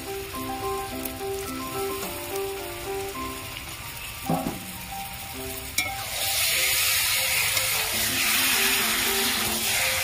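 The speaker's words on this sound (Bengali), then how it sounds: "এইভাবে তেলের মধ্যে মাংসটা দিয়ে কষলে মাংসটা টেস্ট অন্যরকম হয়" Chicken meat frying in oil with goat fat, a steady close sizzle under a faint tonal backdrop that swells into a loud, dense hiss after a clank partway through.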